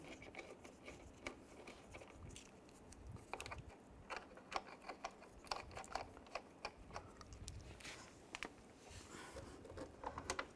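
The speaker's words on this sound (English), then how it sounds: "Get all those started and then tighten them down" Quick clicking ratchet strokes from tightening the headlight screws on a 2004-2010 BMW X3, in short irregular bursts of light mechanical ticks that stay close and fairly quiet throughout.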